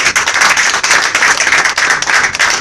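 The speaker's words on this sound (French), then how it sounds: "Applaudissez pour Jésus." Loud, brisk clapping from a church congregation, a tight rhythmic patter of many hands close by, sustained throughout with no talk on top.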